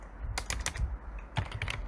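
Rapid bursts of key presses on a computer keyboard while a file name is typed, close and fairly quiet, with a short pause between two clusters of clicks.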